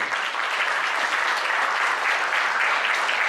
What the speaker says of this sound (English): Can we have a round of applause for all of you?